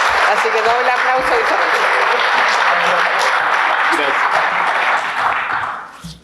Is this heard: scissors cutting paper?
no